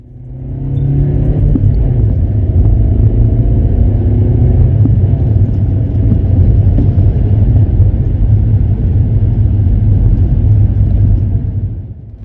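A car cruises along winding countryside roads in Yorkshire, its engine and tyre rumble steady and close from start to finish with a slight fade at the end.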